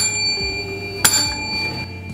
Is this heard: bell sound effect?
yes